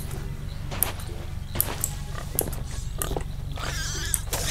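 A pig in the video game Sea of Thieves, grunting in short snorts that recur every second or so over a constant low rumble of game ambience, with scattered soft footstep-like thumps.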